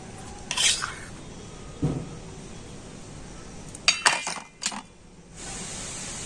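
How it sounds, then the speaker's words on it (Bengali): Flour being spooned into a bowl of mixture for malpua, a few clinks of a spoon against the bowl and a soft scrape, followed by quieter handling, close and fairly quiet with no voices. "তো দু চামচ ময়দা আমি দিয়ে দিচ্ছি"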